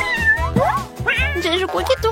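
A kitten gives several high, clear meows close up, one after another, over a steady low background hum.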